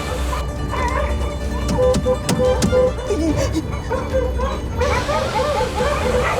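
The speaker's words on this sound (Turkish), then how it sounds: "Dikkat et köpeklere çarpacağız be." Several dogs yip and bark in short, excited bursts close to a moving car, with engine rumble and road noise underneath the whole time.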